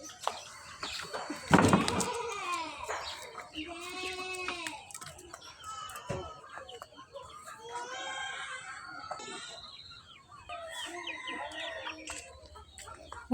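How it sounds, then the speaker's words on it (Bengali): Pet chickens cluck and squawk while being fed in a village yard. Repeated clucks and occasional loud cries carry on throughout, close by, with some shrill calls. "এদিকে আমি আমার পোষা মুরগিগুলোকে আদার খাওয়াচ্ছি"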